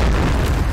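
A deep, muffled boom of a grenade explosion in the Point Blank video game, one short rumbling blast heard alone with no talk.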